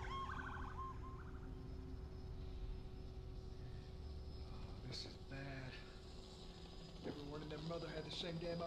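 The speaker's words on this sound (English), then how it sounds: "Ambulance." An ambulance siren in The Last of Us video game, brief wailing tones early on, partly buried under dense game noise, rumble and scattered voices.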